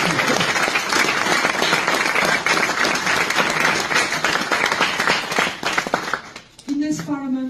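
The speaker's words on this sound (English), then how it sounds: "You can applaud yourself" Loud, sustained applause from an audience in the European Parliament in Strasbourg, welcoming students. Dense clapping fills about six seconds, then thins out, and a voice begins speaking over the last claps.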